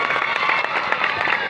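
A crowd at a political rally in Duliajan claps in a dense, continuous patter of applause, with loud hand claps close by.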